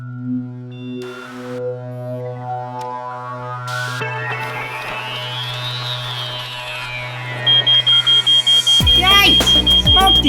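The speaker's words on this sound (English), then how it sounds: "I heard your smoke alarm going off" An animated scene where a smoke detector alarm goes off, sounding as a run of sharp, regular beeps near the end after a stretch of tonal cartoon sounds and music.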